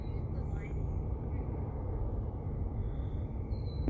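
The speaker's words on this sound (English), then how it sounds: "You can hear the roar in the background of all the trains." A low, steady roar of trains carries from a distance to a wooded nature trail by a bog, a faint continuous rumble with no voices over it.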